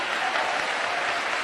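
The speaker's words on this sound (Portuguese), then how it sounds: "Então aplauda ele com todas as suas forças." Congregation at a church service clapping with full force, a short, steady, dense wash of applause without pauses.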